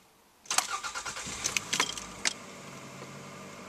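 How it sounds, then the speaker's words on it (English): Engine of a 2001 Toyota Camry cranks and catches after a steering wheel replacement, a short starter burst followed by a few sharp clicks, then a quiet, steady idle close by. "And finally, crank it up."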